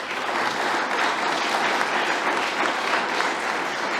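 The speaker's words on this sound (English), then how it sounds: "I'm going to ask you to give a great round of applause to this team" Audience at a design-for-government final show gives a presenting team a sustained round of applause, dense and even clapping from a large crowd filling the room without pause.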